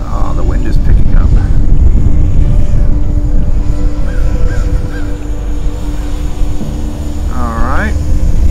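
An AOS 5.5 FPV drone with DJI O3 whines and buzzes loudly throughout a landing attempt in gusty wind, its pitch wavering and warbling up and down as the throttle changes; speech occurs over it.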